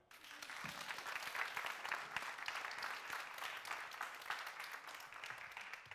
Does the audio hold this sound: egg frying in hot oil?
no